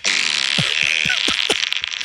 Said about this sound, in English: what would cause this woman to want to play fart noises during the whole Barbie movie?